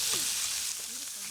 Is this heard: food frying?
yes